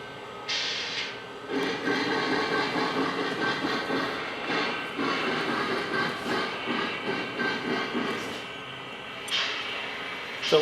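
A Lionel Legacy S3 Northern model steam locomotive runs in reverse, giving a steady mechanical hum with chuffing, a soft rail rumble, and brief hisses and whistle-like bursts near the start and end.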